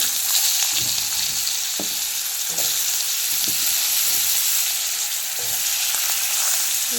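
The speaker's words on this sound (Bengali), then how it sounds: "ওই তেলে কড়াইতে জিরা ফোড়ন দিয়ে আলুগুলো দিয়ে দিচ্ছি" Potatoes fry in cumin-tempered oil in a wok, giving a steady bright sizzle with soft scraping stirs at regular intervals and no talk.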